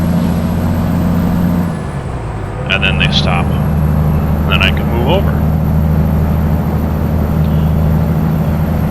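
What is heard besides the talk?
Peterbilt 389 truck exhaust with Detroit engine, American Truck Simulator video game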